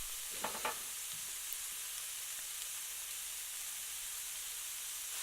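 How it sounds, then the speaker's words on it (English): Stuffed zucchini filling with chili powder sautéing in a pan gives a soft, even sizzle and hiss, with a couple of brief stirring knocks near the start, quiet and close. "and saute for 2 or 3 minutes."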